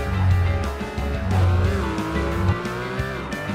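A buggy engine whines and revs in the Beach Buggy Racing video game, a steady droning tone that rises and falls over a few seconds, loud and close with game effects layered around it.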